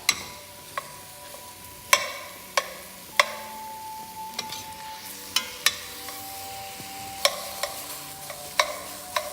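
Ground meat sizzles softly in a pan while a utensil scrapes and knocks against it in irregular strokes, sharp clacks standing out over the quiet frying.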